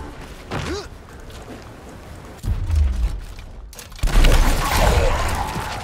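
Gunfire in the tactical video game Gears Tactics comes as a few loud, sharp bursts and booming hits set against quieter game ambience, with someone speaking between them.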